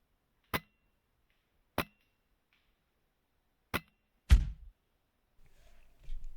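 Airsoft sniper rifle fired in a bushy forest: three sharp, dry cracks spaced a second or two apart, then a heavier thump with a short low tail, followed by faint rustling, with no talk.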